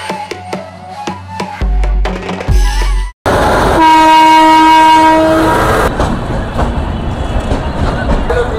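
A train at Hazrat Nizamuddin railway station in Delhi: rhythmic clicking and rumble, then after a brief cut a loud, close horn blast holds for about three seconds before fading into ongoing rolling noise.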